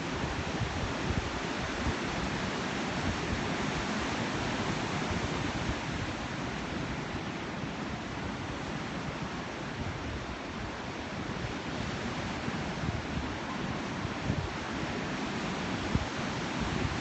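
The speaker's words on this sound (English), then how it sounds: "Breathe in as the waves stretch towards the shore" Ocean surf at Laguna Beach rolls onto the shore in a continuous, dense wash of noise at a steady level, with wind mixed in and no voices.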